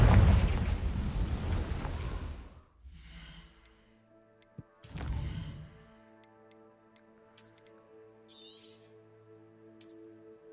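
A Confringo fire blast spell from Hogwarts Legacy erupts as a loud, broad explosive roar lasting a couple of seconds, followed by a second shorter burst near the middle, with ringing tones and sparkling effects trailing off.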